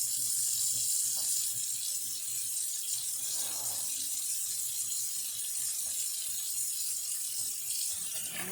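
Tap water runs steadily into a kitchen sink to thaw food, a continuous close hiss and splash lasting throughout with small clinks over it.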